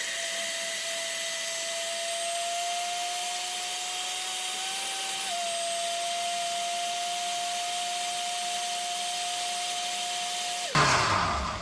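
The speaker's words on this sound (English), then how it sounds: "So now we are going to blend this." A blender runs steadily on thick vegan cheesecake filling, a sustained whir with a slight pitch dip midway, alone and unbroken for about ten seconds before stopping abruptly.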